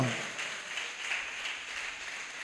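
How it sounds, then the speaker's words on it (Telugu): An Easter congregation in church claps hands together in a steady, even wash of applause at moderate distance, with no voices standing out. "చప్పట్లు కొట్టి దేవుని నామాన్ని మహిమపరుద్దాం."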